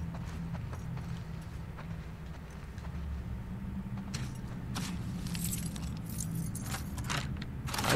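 Keys jangling in the video game The Last of Us Part 2, a light metallic rattle with scattered bright clinks over a steady low game background, growing busier and louder toward the end.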